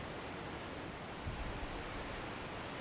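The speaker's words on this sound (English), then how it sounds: "Pretty windy here today." Steady, broad rushing wind noise buffets the outdoors with a constant roar and occasional stronger gusts, no voices present.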